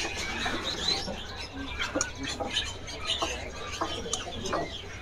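A Sumatran cucak hijau songbird gives short, sharp chirps and calls at a bird market stall, mixed with other birds and background chatter.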